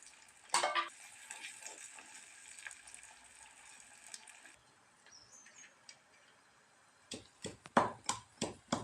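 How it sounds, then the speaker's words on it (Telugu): Onions and green chillies drop into hot oil for a tempering, giving a steady light sizzle with a few sharp clinks of a utensil against the pan near the start and again toward the end; no one talks. "ఇందులో తాలింపు అని ఉల్లిగడ్డలు వేసుకుంటాను. ఉల్లిగడ్డలు, పచ్చిమిరపకాయలు వేసుకుంటాను."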